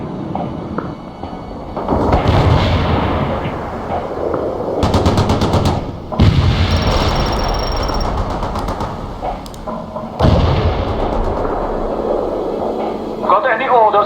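Artillery and gunfire in the World in Conflict video game: rapid machine-gun bursts and heavy booming impacts crowd the mix, with radio-style unit voices talking over the battle.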